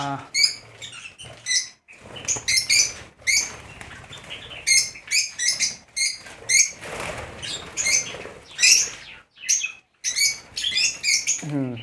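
Small lovebirds chirp in rapid, shrill bursts, close by, with fluttering and scuffling between the calls.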